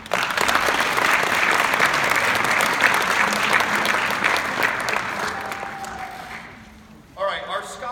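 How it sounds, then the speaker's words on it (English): Sustained applause from an audience at a high school football awards ceremony, steady dense clapping that fades toward the end before a voice briefly speaks. "Please, round of applause for everybody."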